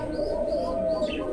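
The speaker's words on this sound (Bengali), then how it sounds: "দর্শক বন্ধুরা, এখানে একজোড়া কবুতর দেখে পাচ্ছেন" A fancy pigeon, a khaki bird with its chicks, gives a steady low coo close by, sustained and alone with faint background noise.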